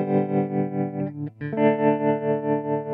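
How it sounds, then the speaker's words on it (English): Tremolo effect on a Zoom R4 multitrack recorder pulsing a sustained tone up and down in a steady rhythmic wobble, with a brief change in the note partway through. "Right, I think I'll use the tremolo effect here."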